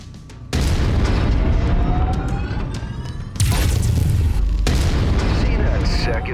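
Heavy booming blasts as a mech is destroyed in the video game Mechwarrior 5 Mercenaries, two loud explosions a few seconds apart, the second hitting harder, with roaring rumble carrying between them.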